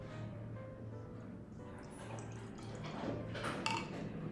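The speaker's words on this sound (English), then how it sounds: "Get it pouring" Blanche wheat beer pours from a freshly cracked container with a steady close gurgle and splash of liquid that swells louder toward the end, with no talking.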